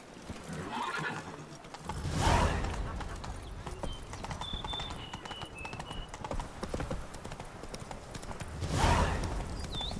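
Roach, the player's horse in the video game The Witcher 3: Wild Hunt, trots with steady rhythmic hoof clops across open countryside, with two loud whinnies, one early and one near the end, under faint game ambience.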